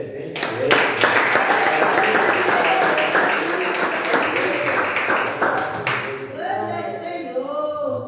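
A church congregation claps along in steady rhythmic bursts for about six seconds, loud and close, with voices speaking over it before the clapping gives way to talk alone.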